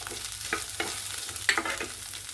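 Onions, garlic, coriander and sambar powder frying in a pan as cumin goes in, a fairly quiet steady sizzle with several rhythmic stirring scrapes, no voices.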